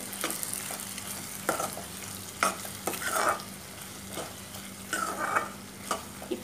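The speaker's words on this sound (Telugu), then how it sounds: "ఇప్పుడు ఈ ఫ్రై చేసుకున్న బొమ్మిడి చేప ముక్కలన్నీ ఈ ఆయిల్తో పాటే దీంట్లో వేసేసుకుంటాను కూరలో" Fried bommidi fish pieces go with their oil into a tomato curry, with a soft sizzle broken by several sharp stirring and scraping bursts in the pan.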